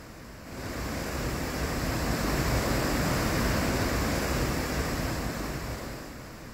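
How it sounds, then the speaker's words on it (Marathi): Water discharges from the Upper Wardha dam gates as a continuous, dense roar that swells in the first second and then holds loud and steady, with no voices. "धरणातून 3546 क्युसेक पाण्याचा विसर्ग सुरू आहे"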